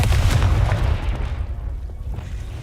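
A Confringo fire spell in the Hogwarts Legacy video game bursts with a heavy, booming blast up front, its deep rumble rolling off and fading over a couple of seconds.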